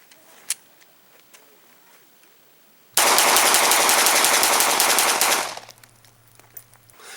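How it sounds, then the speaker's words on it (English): A Glock 19 pistol emptying 13 rounds in a fast, continuous burst lasting about two and a half seconds, loud and close on a shooting range, with quieter handling sounds before and after. "Now I was able to squeeze off 13 rounds a quarter of a second faster with the pistol than I was the AR-15."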